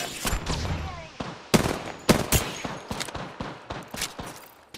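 Video game gunfire, a series of sharp loud cracks spaced unevenly over a few seconds amid a busy background of game effects.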